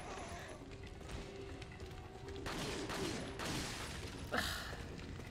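Gunfire from the Resident Evil video game, a few sharp bursts and a loud crack near the end over steady game ambience, with voices faintly audible in the background.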